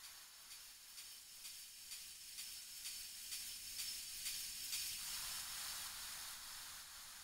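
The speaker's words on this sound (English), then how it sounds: "The other thing is of course the shimmer. This really long bright sound." Long, bright shimmering synth texture for a techno transition, a hissy wash with a faint steady pulse running through it, swelling brighter toward the end, played quietly on its own.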